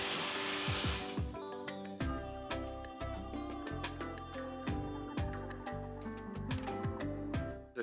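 A paint-stripping wheel attachment on a power tool grinds across a painted wooden sign, with a steady abrasive whir and repeated ratcheting, knocking bursts as the wheel is worked back and forth over the wood.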